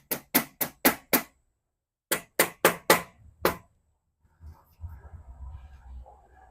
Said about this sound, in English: I'm pulling up too when I'm whacking it over so it doesn't shift down when I'm moving it.